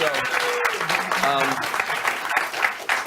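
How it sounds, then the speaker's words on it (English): A television talk-show studio audience gives a steady round of applause for about three seconds while a voice carries on over the clapping. "Give them a round of applause."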